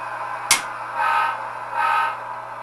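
Two short toots from a DCC-controlled model railroad locomotive horn on a point-to-point layout sound about a second apart, moderately loud over a steady hum, after a sharp click.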